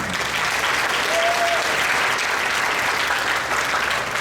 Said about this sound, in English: So round of applause one more time for this.